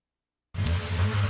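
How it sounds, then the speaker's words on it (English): After a moment of silence, a car engine suddenly roars to life, revving loud and close with a deep, throaty rumble. "That's the sound of you revving your car."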